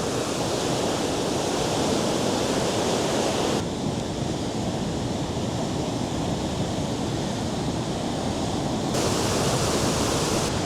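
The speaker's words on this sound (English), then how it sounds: "Water is just like blasting through the rock." Loud, steady roar of river water blasting through the rock at the Natural Bridge, Banff and Jasper area, a dense broadband wash close by with no voices.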